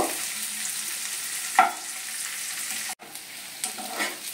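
Onion frying in a pan for a Bengali potol vorta, a steady broadband sizzle with one brief stir or clatter about midway, moderately loud and close, no voices.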